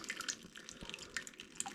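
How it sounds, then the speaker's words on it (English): Maple syrup dripping slowly through a filter during home syrup making: soft, sparse drips at an irregular pace, quiet and close, with no talking. "It's got a little bit left in there. Dripping real slow right now."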